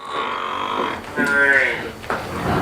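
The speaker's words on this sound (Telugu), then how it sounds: "ఇంకొక గేదె తీసుకొస్తున్నారు" A Haryana buffalo at a dairy farm gives one long, loud, close lowing call that slides upward in pitch, and a low rumble of background noise runs beneath it.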